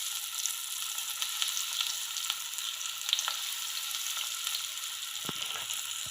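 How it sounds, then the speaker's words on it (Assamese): Aloo chops and cornflakes chops deep frying in hot oil give a steady, close sizzle and crackle with scattered small pops, and no one talks. "এতিয়া মই এইকেইটাও ভাজি ল'ম।"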